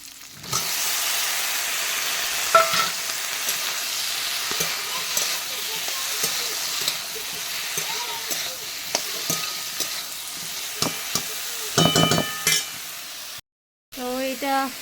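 A vegetable curry with mustard paste fries in a pan, a steady close sizzle with scraping stirs and a few clinks of the utensil, broken by a brief cut near the end.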